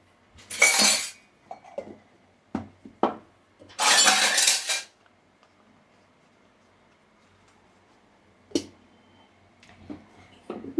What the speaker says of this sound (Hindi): जब मैं ऐसे बर्तन सेट करती हूँ ना